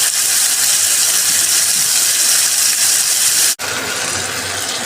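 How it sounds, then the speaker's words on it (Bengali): Cut lobster pieces fry in a pan for a tomato lobster bhuna, a loud continuous sizzle and hiss close up, broken by a brief dropout before the frying resumes. "ভেজে নিচ্ছি আগে।"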